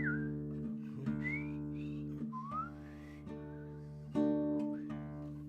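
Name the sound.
person whistling a tune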